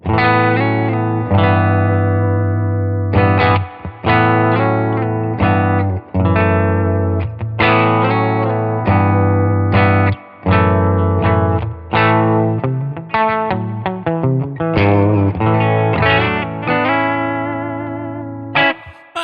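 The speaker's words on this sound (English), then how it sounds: "I am running a Heritage Guitars H535 into a Milkman Sound 20-watt creamer" Heritage H535 electric guitar through a Milkman Sound 20-watt Creamer amp, playing chords and single-note runs with a chorused, slightly driven tone and some reverb, loud and continuous, no talking.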